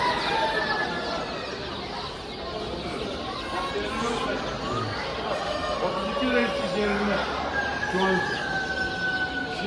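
Chickens and other fowl clucking at a busy poultry market in Bursa, a dense, continuous layer of bird calls mixed with background crowd noise and people talking nearby.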